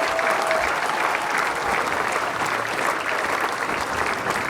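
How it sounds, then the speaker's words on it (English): Dense, steady applause from a large crowd at a Newport Gulls vs Upper Valley Nighthawks baseball game fills the whole stretch, a continuous wash of clapping with no pauses. "big round of applause for everybody coming out tonight"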